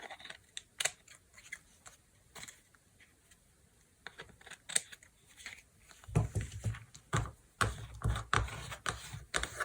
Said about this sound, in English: And now I'll just trim